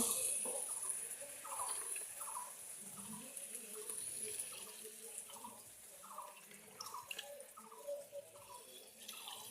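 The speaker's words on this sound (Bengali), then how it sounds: "এবার এর মধ্যে আমি দিয়ে দেবো জল, পরিমাণ মতো জল দিয়ে দেবো।" Water poured into a pan of spiced jackfruit and potato curry makes a quiet, gurgling, splashing stream that runs continuously for several seconds, fairly faint and with no talking over it.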